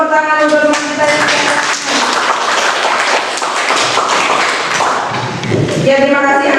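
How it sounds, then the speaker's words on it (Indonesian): Classroom applause for a group presentation, dense clapping filling the room with a teacher's voice speaking over it and children's voices mixed in. "beri tepuk tangan untuk teman kita yang"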